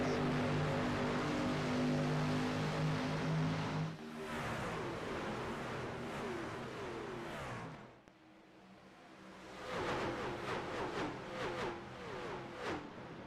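Engines of racing trucks in an iRacing truck series race at Texas roar at the restart, a dense, loud whine that drops away briefly, then returns with rising, layered engine notes, with no talking.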